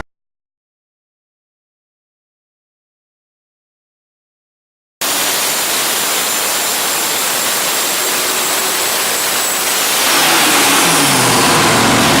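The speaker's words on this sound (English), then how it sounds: "This is the twin turbo 572 Chrysler Hemi. It's an all aluminum engine." After several seconds of silence, a twin-turbo 572 all-aluminum Chrysler Hemi V8 roars in close, holding a loud, steady rumble that rises slightly in pitch toward the end.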